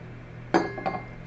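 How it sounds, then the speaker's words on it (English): Metal spoon scraped against the rim of a mixing bowl to clear off chocolate chip muffin batter, two quick clinks close by, the first louder, with no talking. "I'm going to scrape off my spoon."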